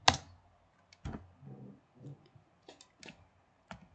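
Someone types the number 30 and presses the spacebar on a computer keyboard, giving a handful of sharp, close clicks and taps spread over a few seconds, quiet between strokes.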